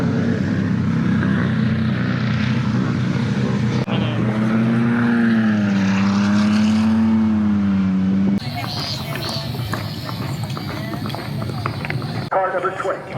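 Super GT racing car engines roar continuously at close range at Fuji Speedway, one rising and falling in pitch as it passes, with a crowd and voices mixed in.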